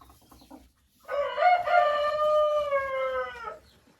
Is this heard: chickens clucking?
yes